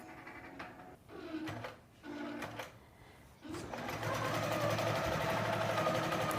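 A quilting sewing machine runs in short motor bursts with brief pauses between them, then settles into steady mechanical whirring while it sews a single stitch.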